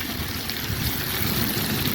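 Water pours steadily into a pot of plov with quince, a continuous close rushing splash lasting the whole moment with no voices.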